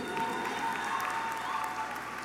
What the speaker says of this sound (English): Welcome him with a round of applause,